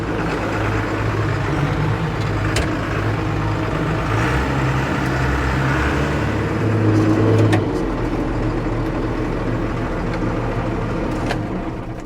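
A Farmall M tractor repowered with a Cummins 4BT diesel engine runs steadily while mowing, a loud, continuous low rumble with a slight swell in the middle and no talking.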